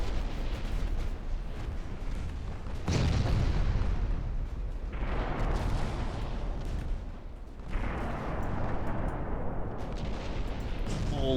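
Naval artillery in the Ultimate Admiral Dreadnoughts warship battle game, heavy booming gun salvos from battleships and cruisers, several sharp blasts with long rumbling tails that overlap into a continuous roar of fire.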